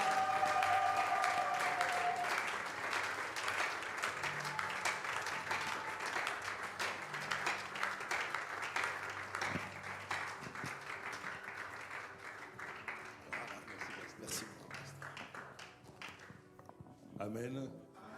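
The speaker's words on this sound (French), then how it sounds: "alors qu'il s'avance, on acclame très très fort le Seigneur" Church congregation at a Sunday service applauding and cheering loudly as the pastor comes forward, dense sustained clapping that thins toward the end with a few scattered claps.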